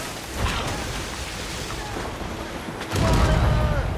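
Ship cannons fire in a naval battle in Assassin's Creed Rogue, heard as a dense rumbling barrage of booms that swells sharply near the end, with voices shouting beneath the blasts.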